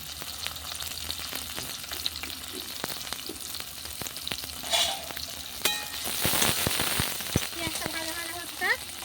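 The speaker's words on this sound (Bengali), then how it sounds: "পেঁয়াজটা ভাজা ভাজা হচ্ছে।" Chopped onion frying in mustard oil with bay leaves, a steady close sizzle with crackling pops and scraping stirs, briefly louder midway.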